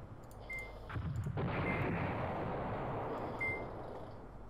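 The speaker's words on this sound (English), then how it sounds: "Go on, have another go at bombarding." Artillery bombardment in the wartime strategy video game Command Ops 2 rumbles as a quiet, sustained blast and crackle, with faint electronic beeps at the start and end.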